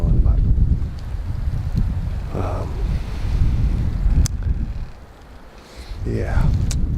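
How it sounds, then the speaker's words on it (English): Wind in the Maine woods rumbles as heavy gusts buffet the microphone, steady and loud with one short lull, while people talk quietly under it. "It's windy as well, which is blowing."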